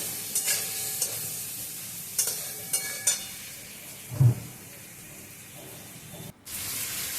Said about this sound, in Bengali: একটু পটলটা ভালো করে ভাজতে হবে